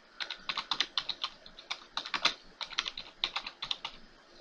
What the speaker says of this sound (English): we need to type in clean and then type in create partition primary